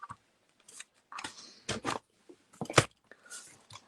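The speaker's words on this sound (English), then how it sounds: "Right, scissors, let's get fussy cutting." Scissors snip and slice through paper during fussy cutting for a scrapbook page, a run of short close crisp cuts in uneven bursts with brief pauses between them.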